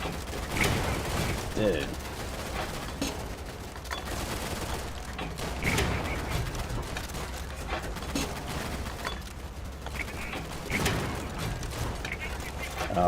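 Gunfire in the World War II shooter Easy Red 2, set in France 1940, with repeated shots and bursts of firing across a dense, busy battle soundscape while a player speaks briefly.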